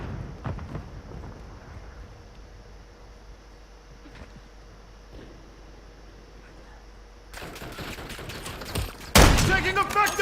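Gunfire in a military video game: a long stretch of quiet ambience, then sharp bursts of shots and a loud volley near the end, with in-game voice callouts alongside.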